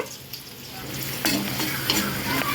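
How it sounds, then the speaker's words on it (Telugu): Onions frying in oil in a kadai, a steady close sizzle with occasional stirring scrapes and bursts of crackle. "ఆనియన్స్ బాగా ఫ్రై కానివ్వాలి"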